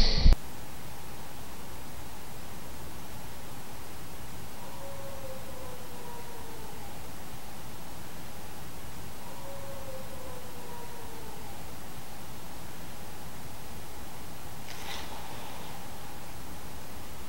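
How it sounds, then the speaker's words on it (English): A distant wolf howl at night outside an asylum, two faint drawn-out rising and falling wails over steady hiss and background noise. "No way a wolf just howled."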